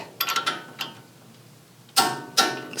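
A torque wrench tightens a 22 mm nut on a JBA upper control arm of a first-generation Toyota Tacoma truck camper. A few sharp metallic ratcheting clicks come in short bursts, separated by quiet pauses, close up.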